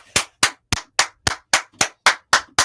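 Ten loud, evenly spaced hand claps ring out in a steady rhythm, each sharp and close with a quick decay, no voices.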